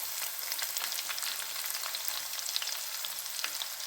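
Onion frying in a pan for a village-style besan pitla, a steady dense sizzle holding at even loudness throughout, close up with no talk.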